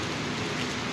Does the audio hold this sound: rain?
yes